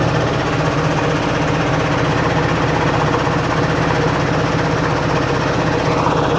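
A Snap-on air compressor runs continuously at close range, a loud, even mechanical drone with a steady pulsing rhythm and no speech.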